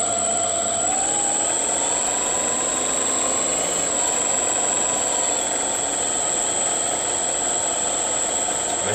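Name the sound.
mini lathe running at low speed, carriage driven by lead screw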